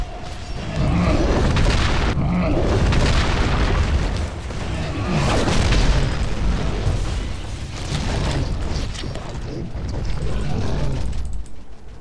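A bunker blows apart in the video game Giants: Citizen Kabuto, heavy booming explosions rolling on for several seconds in loud, rumbling bursts with someone speaking faintly underneath.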